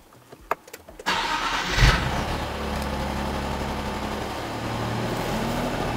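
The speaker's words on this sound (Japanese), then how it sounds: "エンジンかけちゃってもらって" A Nissan Fairlady Z V6 engine cranks and fires after a few quiet clicks, then settles into a steady, close, rumbling idle that continues to the end.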